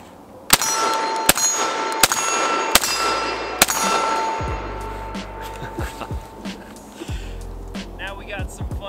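IWI TS12 bullpup shotgun firing slugs at steel targets, five sharp loud reports each followed by a bright ringing clang off steel, spaced about a second apart, then a few fainter thumps and clatters as the ringing fades.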